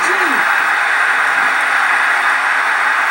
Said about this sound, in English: That's them cheering for this match.